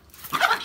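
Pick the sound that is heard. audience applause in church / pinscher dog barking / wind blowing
pinscher dog barking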